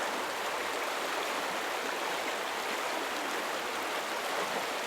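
A small creek rushes steadily over a boulder garden in Northern Ontario, a dense continuous wash of flowing water heard up close with no voices.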